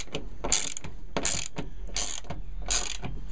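Hand ratchet tightening the mounting nuts of a Sprinter van roof rack, four short bursts of rapid clicking separated by brief pauses, close and crisp with no talk.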